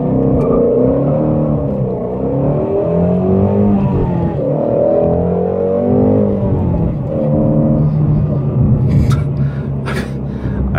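A 2018 Shelby GT350 launches from a standstill, its engine revving hard and climbing through rising pitch sweeps, loud and close for the whole stretch.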